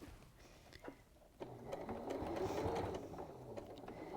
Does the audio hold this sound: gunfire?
no